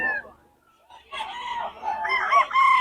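A rooster crows loudly with rising and falling harmonic calls, while other chickens cluck around it at close range.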